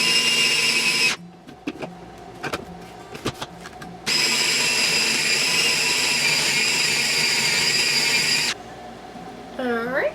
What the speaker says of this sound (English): This is the bowl of my food processor. Put on the lid. And just process this smooth.